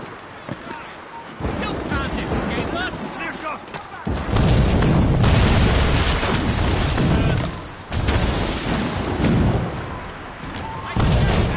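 Mortar explosions in the Assassin's Creed Rogue video game, heavy booms and rumbling blasts recurring every few seconds amid hoofbeat-like clatter, with game voices shouting over the chaos.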